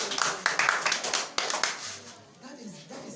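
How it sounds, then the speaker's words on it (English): Scattered hand claps from a lecture audience break out in short, uneven bursts, fairly close and moderately loud, with voices heard among them. "please clap for everybody"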